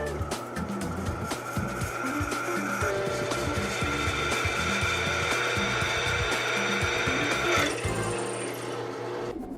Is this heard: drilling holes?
yes